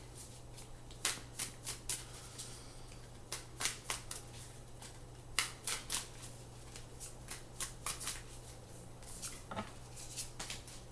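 A deck of angel oracle cards being shuffled by hand, with sharp clustered riffles and flicks recurring in bursts every second or two, close and clear over a low steady hum, with no talking.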